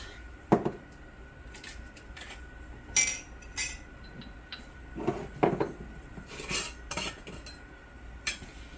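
Metal clinks and scrapes from grinding a teaspoon of nutritional yeast, irregular bursts of clatter scattered over several seconds, close and fairly loud, with no talking.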